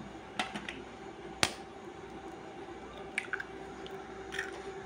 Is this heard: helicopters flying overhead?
no